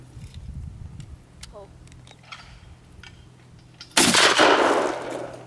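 A shotgun is fired at sporting clays outdoors. A single loud blast with a decaying tail comes after a quiet stretch with faint background sounds.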